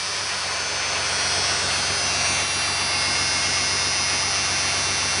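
A 1993 Dodge Dakota with a 3.9L engine idles after its battery was disconnected, giving a steady, continuous broadband hum with a constant whine and no talking.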